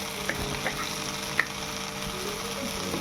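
Mussel rice masala with ground pepper and spice powder sautéing in a pan, a steady even sizzle with a few light stirring clicks, close and alone.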